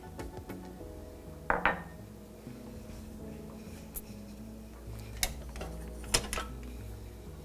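Pico de gallo ingredients with lime juice and salt get tossed in a bowl, giving scattered soft clinks and knocks of a utensil against the bowl, with a few sharper taps standing out.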